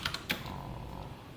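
Computer keyboard keys tap a few times while Java code is typed, a quick close cluster of clicks over a faint background hum, no voices.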